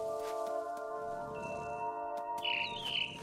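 A startled bird in the video game What Remains of Edith Finch gives a couple of bright chirps near the end, over a steady tonal ambient music bed, with no talking.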